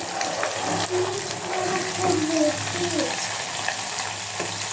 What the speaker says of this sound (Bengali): এটা চটপট করে ফুটছে তো আপনারা একটু সাবধানে থাকবেন যাতে হাতে না পড়ে